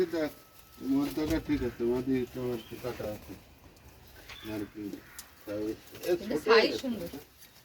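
Pigeons cooing softly in their nesting boxes on a pigeon farm, low repeated throaty coos in bursts, fairly close and quiet.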